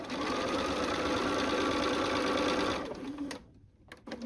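A sewing machine stitches quilt blocks with a fast, steady mechanical whir for a few seconds, then stops, leaving faint handling clicks.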